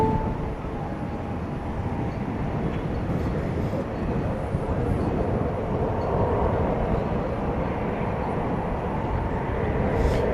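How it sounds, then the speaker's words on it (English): An eight-year-old Boeing 747-8 departing at night from Dallas-Fort Worth Airport, a continuous distant engine roar holding steady and moderately loud across the whole stretch, with no voices. "It's an 8-year-old 747-8."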